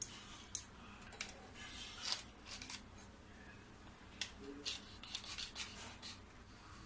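Small holes being poked through silver foil stretched over coconut ice cream, giving faint, scattered crinkles and light taps at irregular intervals, close by and quiet.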